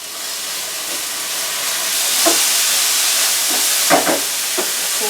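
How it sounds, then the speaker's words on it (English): Ground turkey frying in a pan for a mushroom and spinach lasagna, giving a steady broad sizzle and hiss with a few soft clinks or stirs partway through, continuous and fairly close. "I've got my ground turkey starting to cook in here"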